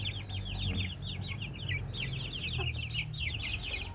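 Chickens and chicks on a backyard farm cluck and peep continuously, a busy chorus of high cheeping over low clucking, steady and fairly close.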